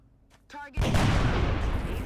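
Sudden loud burst of gunfire in XCOM: Enemy Within (Long War mod) that keeps going as a dense, continuous barrage of shots, with a brief voice just before it starts.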